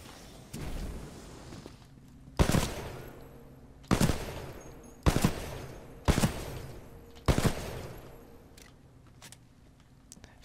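A low-rate-of-fire rifle in Titanfall 2 fires six loud, evenly spaced single shots about a second and a half apart, each with a short decaying tail, followed by a few fainter clicks.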